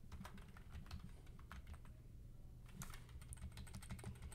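Rapid, steady typing on a computer keyboard, fairly close and quiet, with a denser flurry of keystrokes near the end while editing HTML files.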